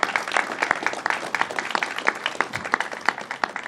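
Applause from an audience at a state government press event, a cluster of distinct nearby claps in a loose rhythm that never swells into a dense roar.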